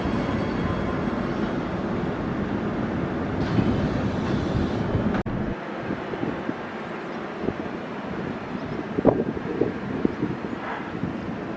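A six-car EMU suburban train runs steadily through Palmwoods station with a continuous rumble and rail noise, and wind buffets the microphone throughout.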